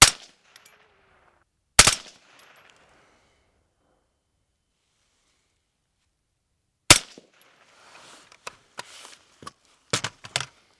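Rifle shots from a gun fitted with a flash hider crack out sharply and loudly, one at a time with long gaps between them, followed by lighter clatter and handling noises.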